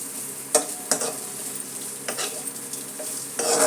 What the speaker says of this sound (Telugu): ఈవేళ నేను ఉల్లిపాయ వేస్తున్నాను.